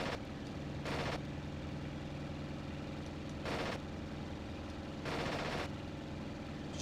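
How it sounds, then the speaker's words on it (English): Aircraft machine guns firing in the IL-2 Sturmovik flight game from an A6M5 fighter: three short bursts spaced a few seconds apart over a steady droning engine, fairly quiet overall. "Just trying to use the machine guns so I get an idea of where to aim properly"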